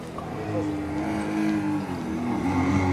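Racing car engines from the Project Cars video game play at a demo booth, a steady revving drone with shifting pitch under nearby talk.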